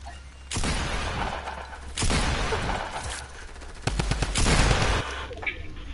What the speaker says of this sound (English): There's a blue drum gun